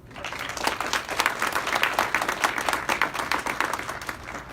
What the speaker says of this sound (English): applause to these outstanding young professionals.